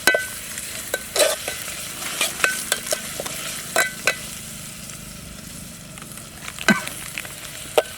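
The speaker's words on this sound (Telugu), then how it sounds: "లాస్ట్ చికెన్ వేసుకొని మంచిగా మిక్స్ అయ్యేదాకా మంచిగా క్లియర్గా కలుపుకోవాలి" Chicken curry being stirred and fried in a pan, with a soft steady sizzle under repeated scraping clicks of a spoon against the pan, close up and with no talking.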